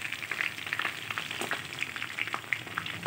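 Pieces of masala-coated fish fry in hot oil, a dense crackling sizzle with constant small pops and spits, close and steady for the whole stretch, with no voices.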